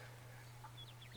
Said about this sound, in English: we are actually adding chickens